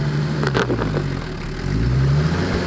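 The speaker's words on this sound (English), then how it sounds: "A 4-wheel pull, and that trailer's just plucked straight out of the sand" A 4WD engine revs hard, pulling a trailer out of soft sand in the Simpson Desert; the loud mid-pitched drone holds steadily, dips briefly, then climbs again near the end.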